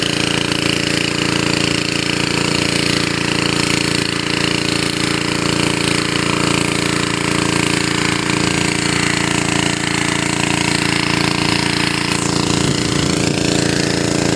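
Manual bore-well drilling in a dry rice-field area, giving a continuous loud mechanical pounding rumble with steady broadband noise throughout, close by and unbroken.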